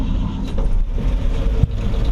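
A 1959 GMC 100 Stepside pickup truck engine cranks and runs, a loud, steady low rumble close by with a brief sharper thump near the end.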